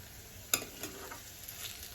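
Browned food frying in oil in a pan as it is lifted out, a steady soft sizzle with a sharp utensil clink near the start, close and moderately quiet.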